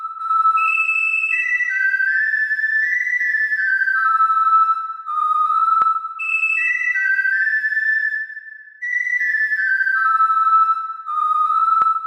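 Whistled melody in an Incredibox mod, a clean looping tune of descending stepped notes that repeats twice, sustained and clear with no voices.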